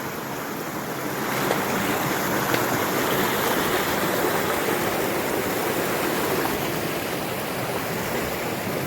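A forest waterfall near Nilambur pours over rocks, a dense, continuous rushing roar of water that swells slightly after the first second and stays loud and even throughout.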